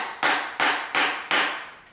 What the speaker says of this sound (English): taking this hammer and I'm going to hit the screen of the iPhone